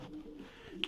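Stock pigeons cooing in a loft, soft low murmuring calls filling a short moment, with a brief sharper chirp near the end, close and quiet.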